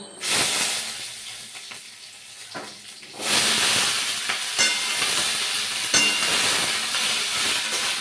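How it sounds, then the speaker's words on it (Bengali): Potatoes and greens stalks being stir-fried in oil with panch phoron: a few soft clatters, then a loud hissing sizzle bursts in and carries on close by, broken by occasional stirring knocks. "তেলের ওপর পাঁচ ফোড়ন দিয়ে ডাটা আলুটা ভালো করে কষিয়ে নেবো"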